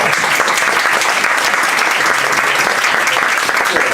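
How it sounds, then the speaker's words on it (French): Right after a song, an audience gives loud, close, sustained applause, a thick unbroken rush of clapping from many people at full strength. "Merci Josette, je crois qu'on peut l'applaudir bien fort."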